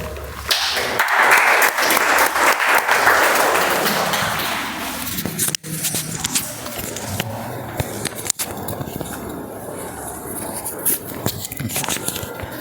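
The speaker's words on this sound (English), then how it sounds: "Let's welcome with huge round of applause Toastmaster Mallikarjuna." Audience at a Toastmasters meeting gives a speaker a round of applause, dense clapping that is loudest for the first few seconds, then thins to scattered claps with faint background murmur and a couple of thumps.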